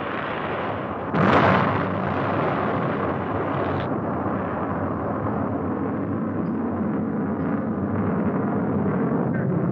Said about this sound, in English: The escape rocket takes the capsule away from the booster.